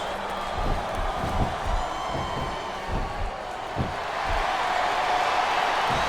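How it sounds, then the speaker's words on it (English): Arena crowd noise in the WWE SmackDown vs Raw 2007 video game, a steady roar of cheering with a few thumps rising through it and no one speaking. "This capacity crowd is making their opinions known tonight."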